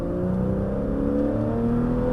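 A Porsche 911 accelerates on the dry Circuit du Laquais, its engine a steady, loud, close drone whose pitch climbs gradually with no pause.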